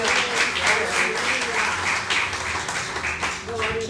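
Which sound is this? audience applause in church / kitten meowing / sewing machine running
audience applause in church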